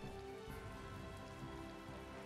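Rain falls steadily in the video game Tales of Vesperia, a dense, even hiss of drops on surfaces that stays constant and fairly faint throughout, with no voices.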